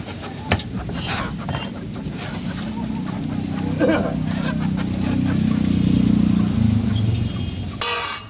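Chickens and roosters cluck and call continuously at a desi chicken shop in Kestopur, Kolkata, fairly close and loud, with people talking throughout.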